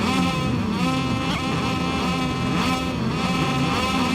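Moto2 racing motorcycles at the Losail circuit in a video game make a loud, continuous high-pitched engine whine with shifting revs, and several bikes buzz together with no talking.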